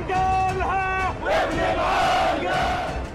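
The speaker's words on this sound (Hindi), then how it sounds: "इसराइल के खिलाफ नारेबाजी शुरू हो गई।" A protest crowd in Amman shouts slogans against Israel, voices rising and falling in a loud, close, rhythmic chant, with strong individual shouts leading over the mass.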